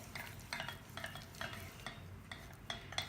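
A whisk scraping and stirring a thickening sauce in a pan, with regular rhythmic strokes about every half second, close and clear with a soft sizzle underneath.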